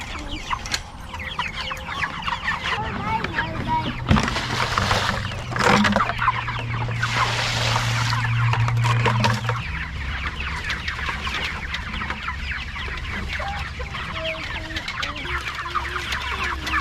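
Chickens about six weeks old cluck and chatter continuously, a busy flock close by in a garden, with a few louder squawks and a low hum running underneath.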